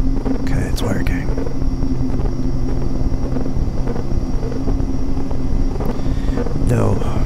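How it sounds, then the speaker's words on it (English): Engine drone of a Vision Jet, a $2.3 million personal jet, in a flight simulator game, a steady loud hum running the whole time with someone speaking quietly over it. "here's our my little vision jet, which I really don't know how to fly yet"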